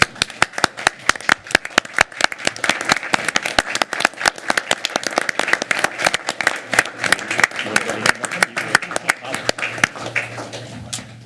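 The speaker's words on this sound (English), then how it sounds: "won't you stand with me and applaud our champions?" A room at a county council meeting bursts into sustained applause for champions, with many hands clapping in a dense, uneven patter for over ten seconds and a few voices mixed in.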